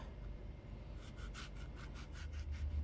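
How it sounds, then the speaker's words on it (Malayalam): A knife slices lengthwise through a ripe banana for pazham pori, making about six quiet, rhythmic sawing strokes close by after a brief near-silent start. "ഞാൻ നടു കട്ട് ചെയ്തിട്ടാണ് ചെയ്യുന്നത് ഈ രീതിയിൽ കട്ട് ചെയ്തെടുക്കുക"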